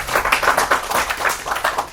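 Applause from an audience at an Urdu poetry book-launch ceremony in Houston, a dense patter of many hands clapping steadily throughout, fairly loud and close with no speech over it.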